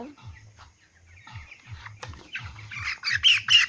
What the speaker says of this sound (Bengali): একটি মুরগি ধরে নিলাম।